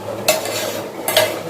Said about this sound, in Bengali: এবার আমি সবজিগুলো দিয়ে দিচ্ছি।